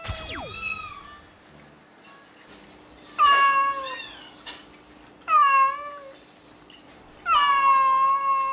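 A grieving black mother cat, a former stray, cries mournfully in a home, letting out several long drawn-out meows spaced a couple of seconds apart, loud and close with quiet pauses between.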